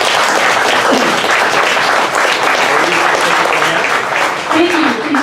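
An audience applauds a comics panel at a San Diego Q&A event, with dense, loud, sustained clapping lasting several seconds.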